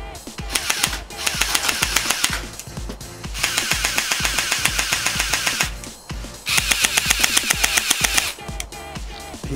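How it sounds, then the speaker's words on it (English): A small MP5 micro airsoft BB gun, gravity fed, fires in rapid full-auto bursts: three long strings of fast clicking shots separated by short pauses, close and sharp. "the rate of fire is amazing on these little guns"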